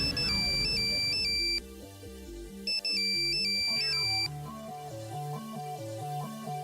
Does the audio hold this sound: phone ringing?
yes